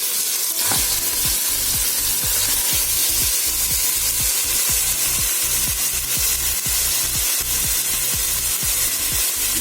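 Mutton and onion frying in a pot at the start of a soup, a steady loud sizzle broken by regular stirring scrapes in a quick rhythm, with no voices.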